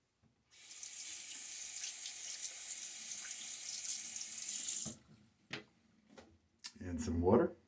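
Water runs steadily from a sink tap for several seconds during a shave with a 1934 Gillette Aristocrat razor, then stops, followed by a few soft clinks and a brief splash or rub close by.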